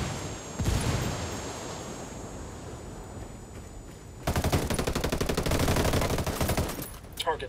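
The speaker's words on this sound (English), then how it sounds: "Under heavy fire." Heavy gunfire in the video game Ghost Recon Wildlands, a muffled rumbling burst followed by a sustained rapid automatic volley with sharp repeated shots, under a low ambient wind-like bed.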